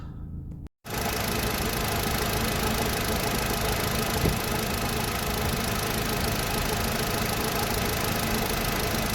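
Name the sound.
Audi A4 1.8T engine idling cold, just started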